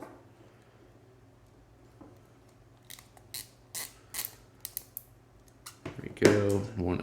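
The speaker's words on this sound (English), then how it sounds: "Now you take your zip ties and install one down at the bottom." A zip tie being cinched onto a Convoy pistol grip gives a series of soft, scattered ratcheting clicks over a low steady hum, ending in a louder rustle at the close.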